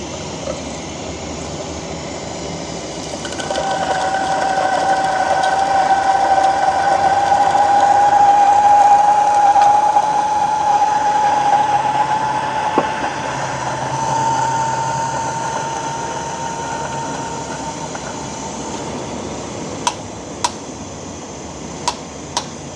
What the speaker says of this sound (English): we're just going to do grinding directly into the blind shaker without shaking